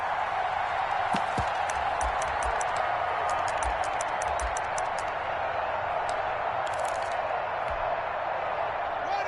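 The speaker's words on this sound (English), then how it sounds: "And this crowd has certainly liked what they've seen." Steady stadium crowd roar fills a Steelers football video game, a broad continuous murmur with scattered claps and cheers rising through it, while a commentator's voice talks over the top.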